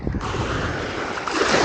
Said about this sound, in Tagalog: grabe lakas ng alon dito